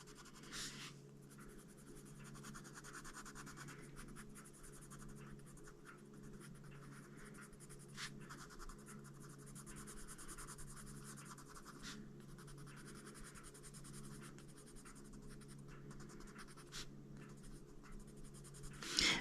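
Polychromos colored pencils scratch across a coloring book page in a steady, close, continuous scribbling rhythm with occasional short pauses, quiet and alone throughout.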